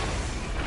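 Dense, continuous booming explosions from the Borderlands video game, a dense rumbling wall of blasts filling the whole short moment at steady loudness with no voices.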